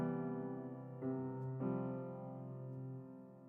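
Gentle video game music from Spiritfarer, piano and oboe playing sustained melodic notes with a couple of soft note changes, calm and moderately quiet without any talking.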